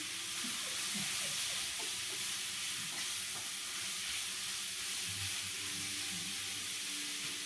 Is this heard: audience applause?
no